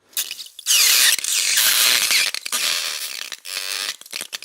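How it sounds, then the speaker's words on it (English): A hot knife pressed into water beads makes loud crackling, sizzling bursts with squeaky, ratchety pops in irregular waves, close up and harsh, fading briefly before flaring again. "I was amazed by the crazy sounds I got with the hot knife on water beads."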